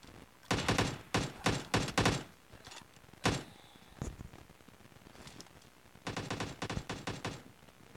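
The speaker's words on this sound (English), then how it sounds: "Even getting shot, but I don't know where from." Gunfire in the video game PUBG Mobile, several rapid automatic bursts and single sharp shots spread across the clip, moderately loud with quieter gaps between, no talking.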